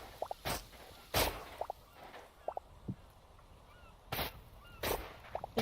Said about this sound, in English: I just hear like the seagulls and it's making me think of SpongeBob.